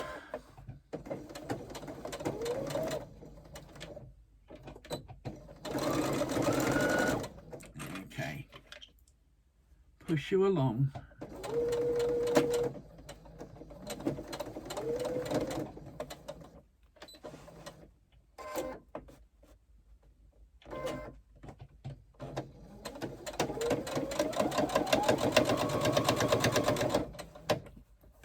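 A home sewing machine stitches a side seam on a pleated project in bursts of rapid clicking and whirring, stopping and restarting, with a person talking in between.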